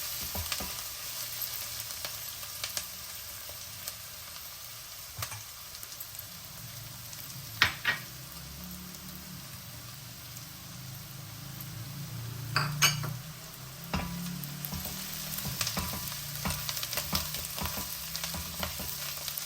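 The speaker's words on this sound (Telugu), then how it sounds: "ఉల్లిపాయలు చక్కగా వేగుతున్నాయి కదా కొంచెం ఇందులో పచ్చిమిరపకాయలు కరివేపాకు వేసేద్దాం" Onions, green chillies and curry leaves frying in a pan for rajma curry, giving a continuous soft sizzle broken by occasional stirring scrapes and clinks of a utensil against the pan, without talk.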